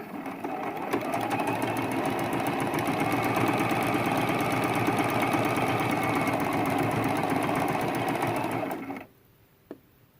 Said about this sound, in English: Now I'm just going to sew this straight down.